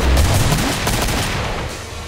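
An automatic shotgun in the Killing Floor video game fires a loud, dense burst of overlapping blasts that decays into a rumbling tail.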